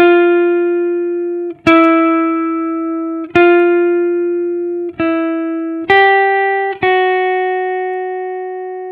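Electric guitar playing a solo around F, with sustained clean notes that ring out one at a time, each sharply picked and slowly decaying, about six notes with a slight pitch step up near the end.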